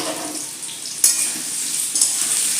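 Chicken frying in a pan being stirred, a continuous bright sizzle with a sharp scrape near the middle and another softer one later, close and alone.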